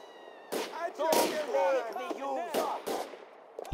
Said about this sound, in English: now I'm getting shot at, but from where?